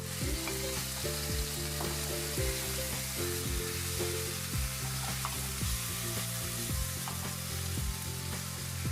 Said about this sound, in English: Add the cut tomatoes followed by the pineapple cubes and stir fry slightly.